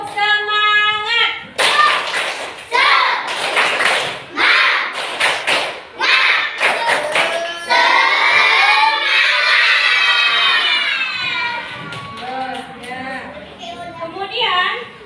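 Schoolchildren in a religious-education class clapping a rhythmic group chant routine, bursts of hand claps and thumps in patterned sequences with children's voices chanting between them, loud and close.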